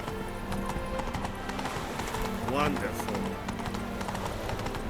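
Hooves of Roach, the horse in The Witcher 3: Wild Hunt, clip-clop in a steady galloping rhythm close by, with a brief whinny midway and a voice speaking over the game audio.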